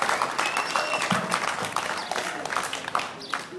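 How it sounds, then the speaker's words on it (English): A local community crowd at an outdoor political campaign meeting in Otara, Auckland, claps in dense, steady applause, with scattered calls mixed into the clapping. "Give yourselves a round of applause."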